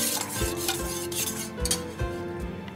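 A spoon stirring Indian gooseberry juice with black salt in a container, producing a few soft clinks and swirling scrapes in an uneven rhythm, close and fairly quiet.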